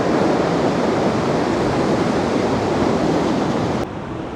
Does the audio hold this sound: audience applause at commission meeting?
no